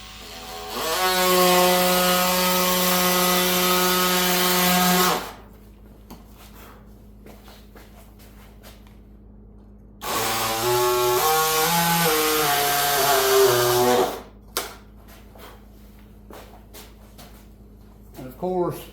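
A power tool makes a straight 90-degree cut through a whitetail deer taxidermy form, in two loud whining bursts of about four seconds each, separated by a quiet pause with faint handling noises.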